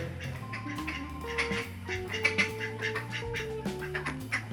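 Ducks quack in a short burst of overlapping calls, close and moderately loud, with a layer of musical tones running beneath them.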